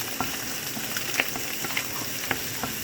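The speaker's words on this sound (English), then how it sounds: "you dump the garlic and then the onion, and then you start mixing it in there." Garlic and onion frying for fried rice, a steady broadband sizzle with scattered sharp clicks and scrapes as the pan is stirred, close and continuous without talk.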